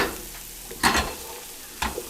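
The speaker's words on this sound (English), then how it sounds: "Give it a good stir." Toasted almonds being stirred into a bread stuffing mixture for a crown rib roast, two short scraping stirs over a quiet background.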